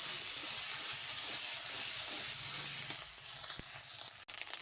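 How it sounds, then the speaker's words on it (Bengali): Ginger, cumin and garlic frying in hot oil, a dense continuous sizzle and steamy hiss, loud and close, easing slightly near the end with a brief knock. "তেলে ভেজে নেব।"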